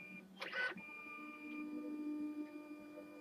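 A Lexmark X8350 all-in-one printer works on its flatbed, giving a faint steady mechanical whir and hum with a short louder rattle near the start, heard alone in a quiet room.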